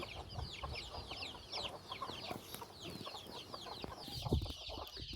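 Chickens cluck and chatter near a border fence, a busy flock of overlapping calls at moderate distance with scattered higher cheeps, steady throughout with no voices.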